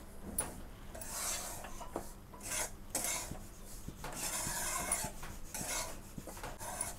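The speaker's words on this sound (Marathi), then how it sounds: "एक चांगला 5 मिनिटं रवा भाजायचा आहे, पण कसा सारखा असा हलवत राहायचं, सारखं मिक्स करत राहायचं" Semolina stirred continuously while it roasts in a pan for karanji, a dry scraping and rasping of a utensil against the pan in repeated strokes, close and fairly quiet with no talk.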